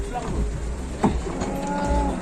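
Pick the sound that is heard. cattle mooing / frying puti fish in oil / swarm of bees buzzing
cattle mooing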